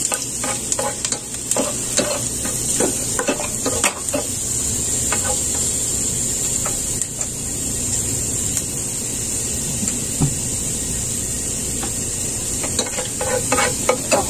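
Ginger sizzles and fries in a pan until browned, a steady crackling hiss with occasional clinks and scrapes of stirring, no talk.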